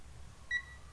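An ANENG V01A auto-ranging multimeter gives one short, thin indicator beep on switching to DC ampere mode, faint and close over a quiet hum.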